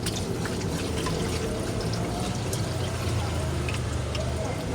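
A dipper of water pours steadily into a cooking pot of pancit, a continuous splashing rush with faint bubbling and sizzling underneath.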